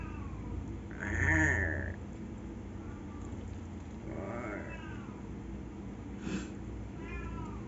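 A cat lets out a loud, drawn-out meow, followed by several shorter, softer meows scattered over a low background hum.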